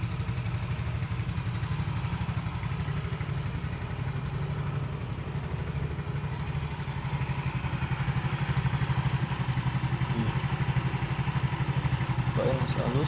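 A used motorcycle engine idles steadily and close by, a low even rumble with a faint rhythmic clatter, continuing throughout with no pauses.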